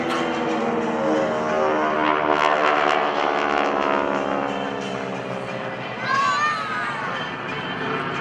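A GEICO Skytypers flight of four propeller aircraft roars overhead at an open house airshow, a loud, steady drone with rising and falling engine tones, while an announcer talks over it.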